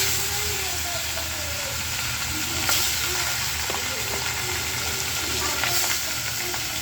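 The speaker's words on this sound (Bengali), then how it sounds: "তো এই যে আমি মাছগুলো ভাজি করে নিই" Fish fry in hot oil in an iron wok, giving a steady loud hiss and sizzle close by that runs throughout, with faint voices in the background.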